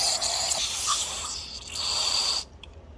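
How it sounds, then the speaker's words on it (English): Compressed air or carburetor cleaner sprayed through the carburetor of a Kohler Elite 7000 riding mower engine, a steady close hiss lasting over two seconds with a brief dip, then cutting off abruptly. "So clean all this out real well with both compressed air, carb cleaner, however you'd like to do it."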